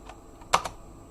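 A computer keyboard gives a few quick, close key clicks, pasting into a terminal. A soft tap sounds first, then a sharper pair of presses, with no voices.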